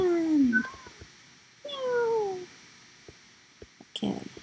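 Cats in the Minecraft video game give two drawn-out meows, clear and close, followed by scattered soft clicks and game noises.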